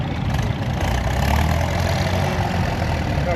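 A vintage 1964 tractor, model 830 with 70 horsepower, idles at a machinery club grand parade in Kingaroy. A steady, loud, low rumble continues unbroken throughout with no voices.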